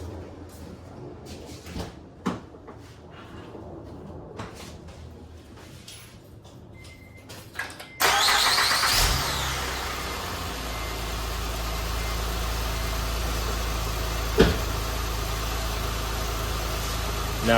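A 2008 Acura TL Type S with new battery cables: first door and cabin clunks, then the engine cranks and catches loudly and settles into a steady, even idle that runs to the end.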